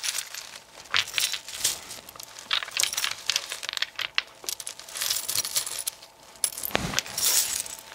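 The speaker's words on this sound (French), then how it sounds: "Allez, on va prendre les dés." Dice are picked up and rolled, clicking and rattling with repeated light clatters and a sharper knock near the end, close by with no talking.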